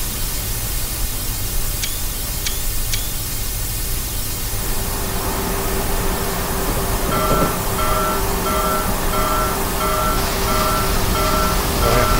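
The Daylight 4449 steam locomotive runs in Train Simulator on a route to San Jose, giving a steady, dense broadband rumble with a sustained tonal hum that continues evenly throughout.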